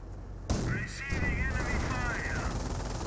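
Infantry suppressing fire in Company of Heroes 1, a sudden burst of rapid machine-gun and rifle shots setting in half a second in and rattling on steadily at mid distance, with a whistling shell sweep overhead in the mix.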